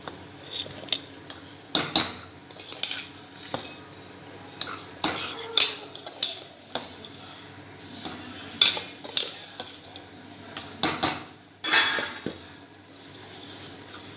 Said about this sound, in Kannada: ಈಗ ಇದಕ್ಕೆ ರೈಸ್ ಹಾಕ್ತಾಯಿದ್ದೀನಿ